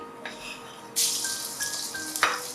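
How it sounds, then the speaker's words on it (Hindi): Ginger garlic paste drops into hot oil in a pan and starts frying with a sudden loud sizzle that keeps crackling steadily, along with a few light clinks of a utensil. "1 मिनट के लिए अदरक लहसुन के पेस्ट को हम भून लेंगे ताकि इसका कच्चापन खत्म हो जाए।"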